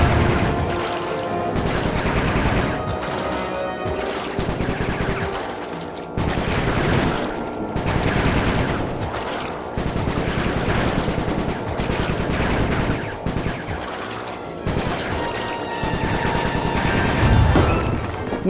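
Rapid bursts of machine gun fire from the Sly 3 game ring out in sustained volleys with brief pauses, loud and close, layered over a busy backdrop of game music and effects.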